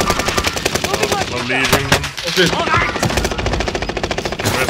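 Rapid bursts of automatic gunfire in the video game Warzone Pacific, loud and continuous, with a brief pause in the middle, while a player speaks over the shooting.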